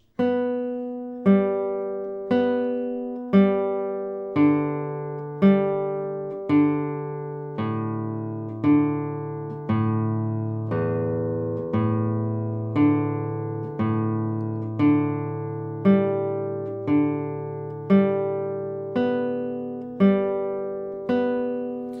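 A guitar plays tremolo with thumb and fingers, a steady, slow stream of single notes, roughly one per second, each ringing out and fading into the next, with no talking.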